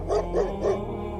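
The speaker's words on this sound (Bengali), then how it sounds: "রাস্তার কুকুরগুলো আমার কান্না শুনে ঠিকই আমায় খুঁজে নিয়েছিল" Street dogs barking, three loud close barks in a quick, evenly spaced series, followed by a low rumbling background.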